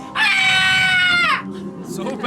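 A woman lets out a single loud, sustained scream on cue, held for about a second before breaking off, followed by a brief softer sound.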